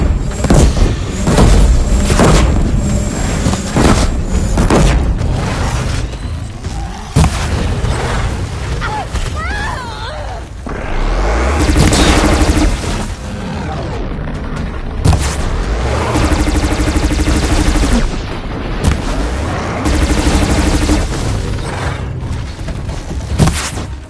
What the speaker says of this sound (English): Watch out for the disc launchers!